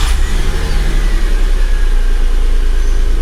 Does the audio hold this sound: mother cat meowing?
no